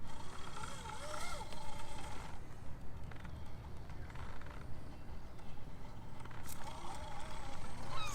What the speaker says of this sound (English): Getting a lot of gear noise from this.